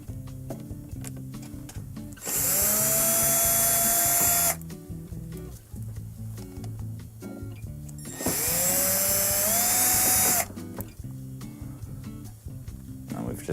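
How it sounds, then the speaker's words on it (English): A power screwdriver backs Phillips screws out of the inlet valve on a Samsung dishwasher: two bursts of high whirring, each about two seconds long with pitch sliding upward, separated by quieter handling noise. "we're going to remove the three Phillips screws here on the valve."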